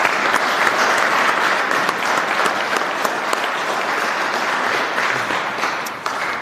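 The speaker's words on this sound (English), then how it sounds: "Give them all a round of applause for me if you could." Sustained applause from the audience at a sheriff's office recognition ceremony, dense even clapping that holds steady and fairly loud for several seconds, with no talking over it.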